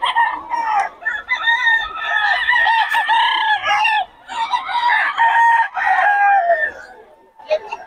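Chickens cluck and squawk up close while roosters crow repeatedly at a Bocaue market selling fowl, a busy, loud barnyard chorus with occasional pauses.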